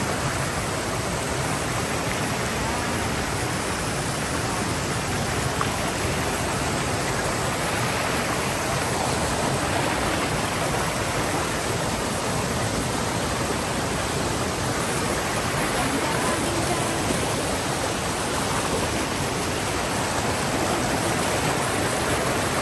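Water from a stream rushes in a dense, steady broadband wash, loud and close, with no pauses and no speech.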